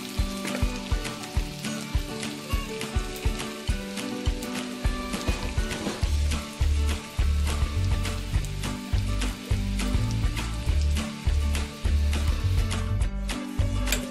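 Onion and garlic frying in oil for an Assamese sour fish curry, a bright continuous sizzle punctuated by rhythmic knocks and scraping of a spoon stirring in the pan, close and fairly loud, with no speech.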